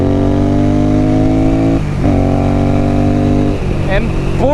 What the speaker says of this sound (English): And boy does it sound good with that 2-into-1 exhaust on here.